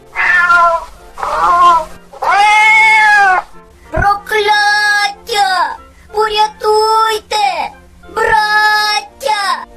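A cat meows loudly and insistently again and again, long drawn-out wails followed by a run of shorter, choppy meows, close up.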